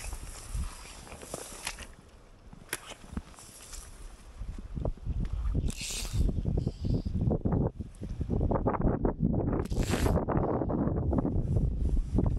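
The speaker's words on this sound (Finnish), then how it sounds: "Toivon, että tuo tuuli lopettaa tuulemisen." Steady wind rushes and buffets outdoors, rising stronger in the second half, with footsteps or handling noises crunching throughout.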